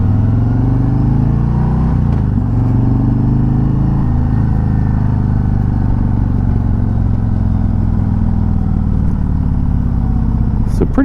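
A Harley-Davidson Road Glide 3 trike's engine accelerating during a test ride, a loud, close, deep droning rumble that rises in pitch, with someone talking over it.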